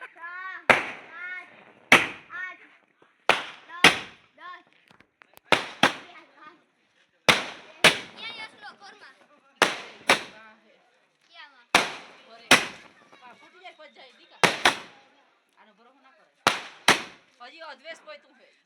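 Diwali firecrackers burst in a long irregular series, a dozen or more sharp loud cracks, with crackling debris and shouting voices between the blasts.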